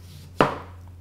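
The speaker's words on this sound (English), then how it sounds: "And I'm gonna cut my lemon." A single crisp knife chop through a lemon on a cutting board, one sharp close thud with a short bright tail, alone in a quiet kitchen.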